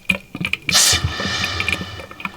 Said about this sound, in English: And you can hear air coming out.